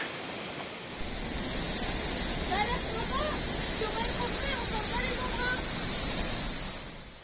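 Steady roaring rush of the Cascade de la Fraîche waterfall in Vanoise, at a via ferrata, fills the whole stretch, loud and constant, with faint bird chirps above it.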